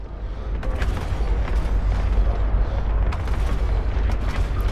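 Spaceship cannons firing in the Eve Online video game during a battle with a destroyer, a dense, continuous rumble of booming shots rolling without pause, loud and close throughout.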